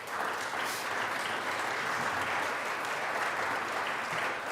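Sustained, steady applause from a crowd filling the Colorado Senate chamber, dense and even throughout without pause.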